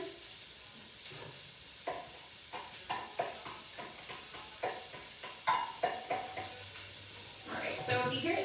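Onions sizzle steadily in a hot pan, a bright frying hiss punctuated by repeated stirring scrapes and taps.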